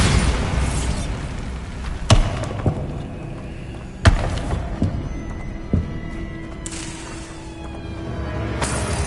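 Bombarda spell blasts in Hogwarts Legacy land as a few sharp booming thuds spaced a couple of seconds apart over a low rumbling game background.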